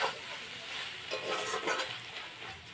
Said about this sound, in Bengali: আবার একটু আমি বাঁধাকপিটা নাড়াচাড়া করে নেব।